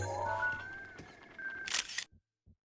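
An in-game camera in Breath of the Wild takes a photo, a short bright shutter burst after a sustained tone, followed by a couple of soft thumps and then silence.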